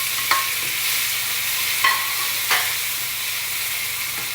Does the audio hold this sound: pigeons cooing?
no